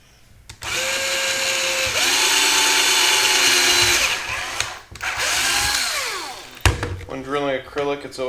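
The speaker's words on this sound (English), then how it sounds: "When drilling acrylic, it's always good to have exit material, such as a piece of wood like this, or else you may crack the acrylic." A power drill fitted with a small 1/8 bit bores through acrylic backed by a wooden block, giving a loud, steady whine that shifts pitch several times and stops briefly, before a voice speaks near the end.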